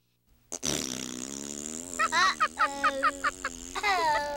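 Someone blows a loud, sputtering raspberry, a long buzzing lip trill that breaks into a series of choppy, flapping pulses.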